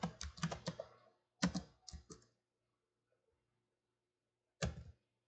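An equation is typed on a computer keyboard in a LaTeX editor. Quick clusters of crisp, close key clicks come in short bursts separated by pauses, in a quiet room with no talk.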